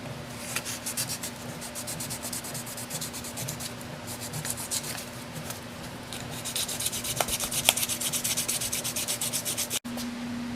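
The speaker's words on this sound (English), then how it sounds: "Okay, so I finished sanding." A brass trumpet part is hand sanded down to bare metal, giving close, continuous rasping strokes with a steady hum beneath and no speech.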